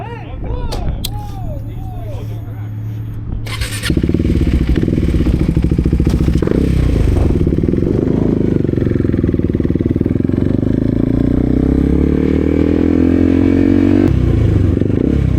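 Honda motorcycle engine revving up loudly and continuously during a ride, rising in pitch through sustained acceleration, with some clatter and rattling near the start.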